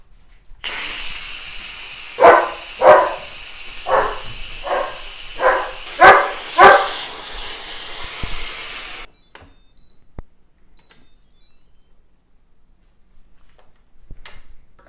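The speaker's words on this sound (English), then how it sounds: "these guys are going to bark when the steam comes out" Several dogs bark in short separate bursts at close range over a steady steam hiss from a pressure cooker, and the hiss cuts off abruptly partway through, leaving a quiet kitchen with faint ticks.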